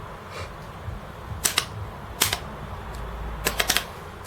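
Keys pressed on a Commodore Amiga A500 keyboard during a keyboard test make close, sharp plastic clicks in small clusters: a double tap, a single press, then a quick run of three or four, over a faint steady hum.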